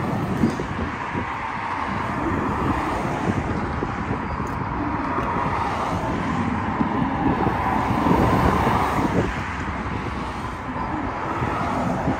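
Steady, buffeting wind roars across the microphone on a bridge over a bay in Sunny Isles for the whole stretch, with a constant rushing noise and no voices.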